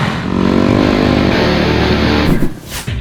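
A loud 450 motorcycle engine roars steadily up close, with a deep rumble that holds and then drops off near the end.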